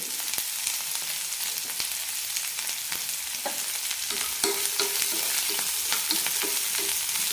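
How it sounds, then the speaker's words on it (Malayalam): Onions and curry leaves sizzle and crackle steadily in hot oil for a bitter gourd curry, with occasional scraping of a spoon stirring the pan. "നല്ല ട്രാൻസ്പാരൻ്റ് ആകുന്നവരെ വഴറ്റിയെടുക്കാം."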